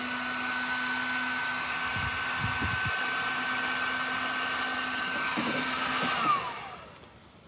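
A heat gun runs while wiring a 1963 Impala with a wire loom: a steady, close whirring blow with a thin whine holds for about six seconds, then winds down as it shuts off, with faint clunks in the background.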